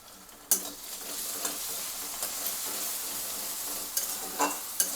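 Garlic and ginger paste sizzling in hot oil with fried onion, stirred in a pan with a few sharp scrapes and clinks of the spatula; steady, close frying sound with no talking.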